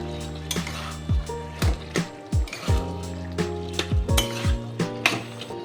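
A spatula scrapes and knocks in a pan of spinach cooked with lentil dumplings, sugar and roasted cumin powder, giving repeated clattering strokes over a low sizzle, close and fairly loud.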